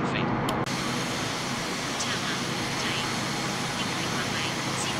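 The engines of a Flybe ATR 72 turboprop in a flight simulator game roar steadily on the takeoff roll from London Heathrow, with a constant dense drone after a brief opening burst.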